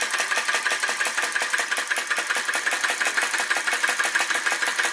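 A Flame Licker Flame Gulper vacuum engine, model VE-01 with crossbeam mod and drive pulley, running steadily, a fast, even, rhythmic chuffing and clicking close to the microphone, with no talking.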